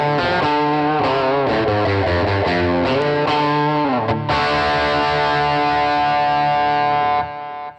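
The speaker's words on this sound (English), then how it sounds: "maybe we'll go back to our Dyn Delay" Distorted electric guitar through the Dyn Delay effect on a Headrush processor plays a run of notes, then one long chord rings out with echoing repeats until it is cut off.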